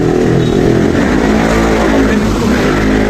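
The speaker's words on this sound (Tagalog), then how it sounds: "Ulitin mo, may motor na dumaan eh." A motorcycle engine passes close by, a loud steady roar with revving across the whole few seconds, dense and continuous with no pauses.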